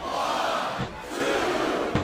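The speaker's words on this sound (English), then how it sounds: "I think this crowd's giving these superstars a piece of their minds, King." A wrestling arena crowd in the WWE SmackDown vs Raw 2007 video game shouts and roars in a loud, continuous wall of noise, briefly dipping before surging again.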